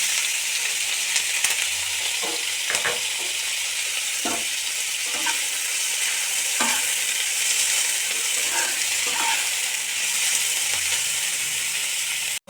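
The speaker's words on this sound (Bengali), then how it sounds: "ভাজতে হবে ক্যাপসিকামটা" Onion and capsicum fry in hot oil in a wok, a steady loud sizzle running throughout with occasional scraping stirs and clinks of a spatula.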